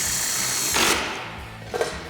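A 10mm socket on a ratchet tightens a headlight bracket bolt on a 2019-2024 RAM 2500, heard as two short, close mechanical whirring bursts over a quiet background.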